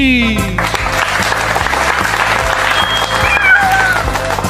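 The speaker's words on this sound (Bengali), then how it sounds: "সবাই একসাথে জোরে হাততালি দে" A burst of loud applause from a group clapping together, dense and sustained, with a short whistle-like tone partway through.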